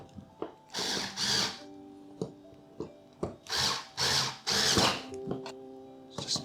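Power drill driving screws into the bracket of a PCIe fan cooler for a GPU, several short whirring bursts close up, separated by brief pauses and small clicks.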